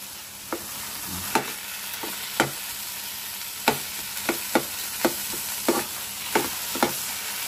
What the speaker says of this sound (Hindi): अब इन सब चीजों को अच्छे से चलाकर ताकि ये चीजें अच्छे से पूरे हलवे में हमारे मिक्स हो जाए।